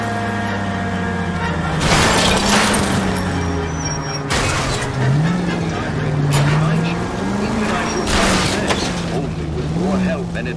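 A car engine roars during a police car chase in L.A. Noire, the pitch rising and falling as it revs through gear changes. Loud bursts of noise and sharp impacts break in repeatedly, and voices speak over the chase.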